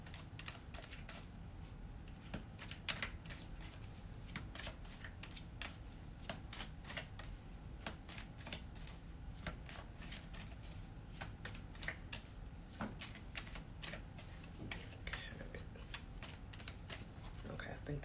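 Repeated riffling of a deck of playing cards, a steady run of soft crisp flutters and taps spread across the whole stretch, moderately close, with low background hum and a few louder clicks.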